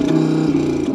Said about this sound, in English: you have its glorious sounding 5-pot engine, which sounds something like this